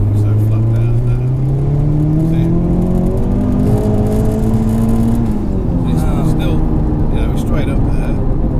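A 530bhp Volkswagen Golf GTI (VRS) pulls hard in 3rd gear off a roundabout, its engine note climbing steadily and loud from inside the cabin, with faint voices over the end.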